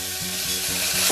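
Rice frying in a pan indoors, a steady close sizzle with faint stirring scrapes and a low hum running underneath.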